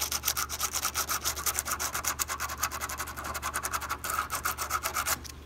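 Sandpaper rubbing back and forth across the tailgate latch of a 1998 Chevy Tahoe, a steady close scratchy sanding in quick rhythmic strokes with no talking.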